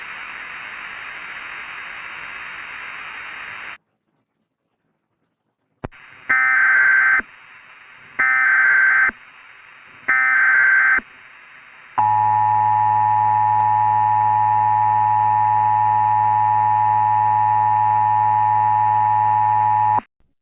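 An emergency broadcast alert tone on a carrier signal: static hiss gives way to silence, then three loud, evenly spaced beeps, followed by a long, steady, harmonically rich tone that holds for about eight seconds.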